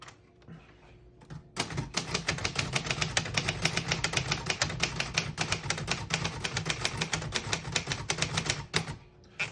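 Fast typing on a 1965 Royal 890 portable manual typewriter produces a dense, even rhythm of sharp mechanical key strikes for about eight seconds, close and crisp, with a few slower clacks at the start and end.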